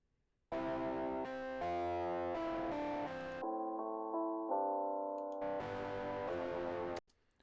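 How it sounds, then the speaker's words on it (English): A piano run through a distortion plugin plays a short sequence of sustained, buzzy, harmonically rich chords, each held about a second, fairly loud and alone with no talking. "So let's listen to what this distortion is now doing."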